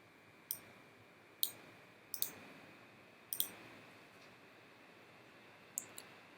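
A computer mouse gives sharp, isolated clicks, about six of them at irregular intervals with a couple of quick doubles. They sound close and crisp over a quiet room hiss, with no talking.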